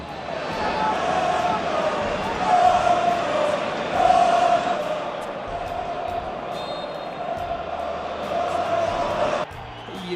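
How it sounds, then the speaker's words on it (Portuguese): In Valencia's stadium, fans shout monkey chants at Vinícius Júnior, a dense, continuous roar of crowd voices with sustained chant-like tones swelling and dipping throughout, ending with an abrupt cut. "Deu para escutar claramente a torcida do Valência, não todos, alguns do estádio, gritando mono para ele"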